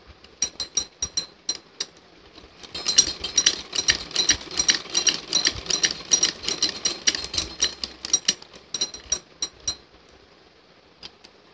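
A sewing machine stitches a folded edge on a frill dress, its needle chattering in quick rapid bursts that run loudest through the middle stretch and ease off into short runs near the end, with no talking.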